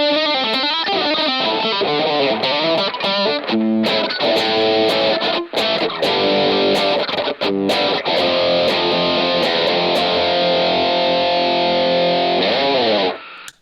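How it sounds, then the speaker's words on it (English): A Rockman overdrive on a Rockboard 3.1 pedalboard drives an electric guitar through a loud, saturated distorted tone, sustained chords and riffs played continuously with brief gaps. "the overdrive tones are really fun too"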